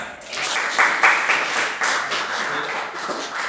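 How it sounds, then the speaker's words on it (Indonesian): A small group claps hands during a long-jump physical education lesson, uneven bursts of close clapping with a few sharp individual claps rising and falling, plus faint voices. "Ya, tepuk tangan."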